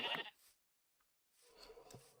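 A sheep in the Minecraft video game bleats twice, a short call followed by a silent gap and then a longer wavering bleat, close and clear with nothing else heard.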